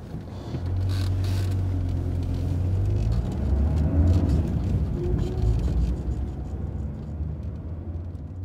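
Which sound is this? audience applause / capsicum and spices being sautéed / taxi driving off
taxi driving off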